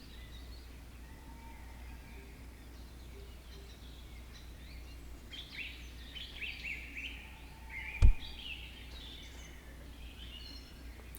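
Birdsong drifts through a Second Life forest ambience in a video game, with scattered chirps and short calls rising and falling at moderate distance over a steady low background hum, plus one brief sharp click partway through.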